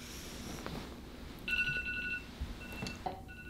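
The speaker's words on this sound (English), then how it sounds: "But I always set 2 alarms." A phone alarm rings at 2:30 a.m. to wake someone, a short run of electronic tones sounding with a brief pause and then starting again, at moderate loudness in a quiet room.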